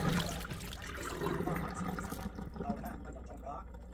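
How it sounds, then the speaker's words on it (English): Rinse water drains from a pot of black sweet rice, a steady broadband splashing trickle at moderate volume, with a voice talking over it for most of the stretch. "You drain the water."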